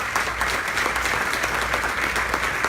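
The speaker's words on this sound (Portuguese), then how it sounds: "Você pode aplaudir ao Senhor?" A church congregation applauds the Lord during a worship service in a loud, dense, continuous round of clapping.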